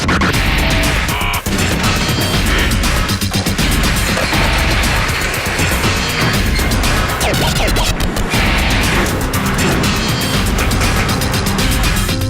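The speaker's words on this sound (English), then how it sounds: "Stamping those parts is the first step in making an unmistakable Mustang" Heavy industrial stamping press forming Ford Mustang GT500 car body panels in a factory, a continuous loud din of metallic crashes, thuds and machinery clatter filling the whole stretch, with no voices.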